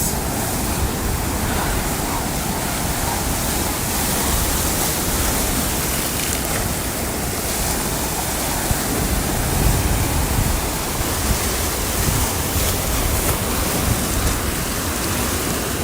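Ocean surf breaking on a beach at first light on Christmas morning, a dense continuous roar of waves filling the whole stretch, loud and unbroken.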